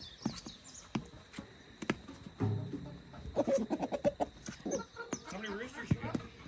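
Chickens clucking and chattering close by on a Hawaiian permaculture farm, in short irregular bursts mixed with scuffling and rustling sounds.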